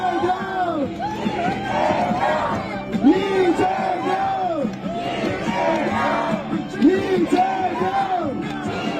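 Rally crowd at a Lee Jae-myung campaign stop on the K-semiconductor theme in Dongtan, shouting a chant together in loud, rhythmic bursts that repeat several times, with voices rising and falling in unison.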